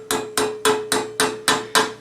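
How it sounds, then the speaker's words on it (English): A cross peen hammer flares the edge of a steel greave over a rounded form, ringing out seven sharp, evenly spaced metallic strikes, loud and close, with no voices. "Do it over the round portion with a cross peen."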